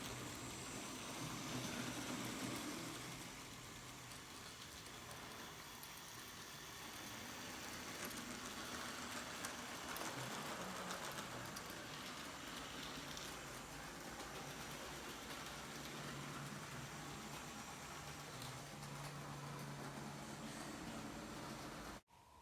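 Model railway trains running steadily across a viaduct, round a bend past a harbour and into a tunnel, giving a continuous, even, moderately loud mechanical rumble and whir with no voices.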